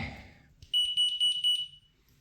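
Four loud, evenly spaced electronic beeps from a gas detector alarm held over a cooking pot, shrill and close, following a brief stretch of muffled background noise.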